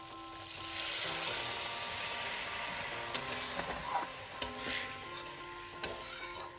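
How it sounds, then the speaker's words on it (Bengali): Coconut milk poured into fried spice masala for a pabda fish malai curry, giving a steady soft sizzle and stirring hiss in a pan, with a few sharp clicks of a utensil against the pan near the end. "আমি এবার এর মধ্যে দিয়ে দেবো নারকেলের দুধ।"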